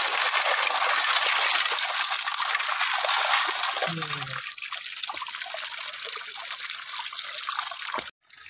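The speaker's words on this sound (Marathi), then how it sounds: "तर हे साफ करून घेऊया. आधी धुवून दाखवते." Clams being washed under running water in a kitchen, a steady loud gush and trickle with shells rattling briefly midway, then the flow softening before a short cut-off.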